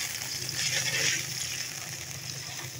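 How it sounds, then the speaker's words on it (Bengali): Water hits a pan of fried onions with a short, hissing sizzle that settles into a softer steady bubbling while cooking continues. "পেঁয়াজ ভাজা শেষ, এখন দিয়ে দিব অল্প একটু পানি।"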